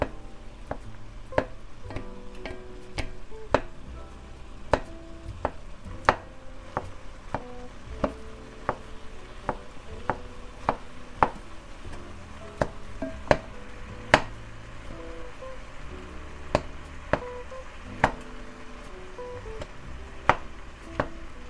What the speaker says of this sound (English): Keep breaking up that cauliflower.